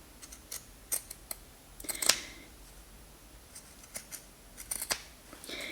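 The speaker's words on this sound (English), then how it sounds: "take your scissors and basically just snip around that corner a couple times" Scissors snip repeatedly around the corners of a fabric book cover, a series of short, crisp, close cuts spaced irregularly with quiet pauses between them.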